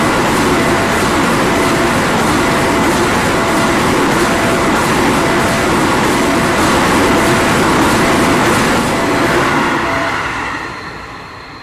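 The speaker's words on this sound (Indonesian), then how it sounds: "kereta akan melintas lagi di perlintasan" A train passing over a railway level crossing in Indonesia, a loud sustained rumble and clatter of wheels that holds steady, then fades away near the end.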